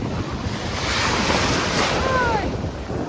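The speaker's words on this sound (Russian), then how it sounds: "эти волны и прыгаем по ним" Loud, close Black Sea waves at Yevpatoria rushing and churning continuously, with heavy wind buffeting the microphone throughout.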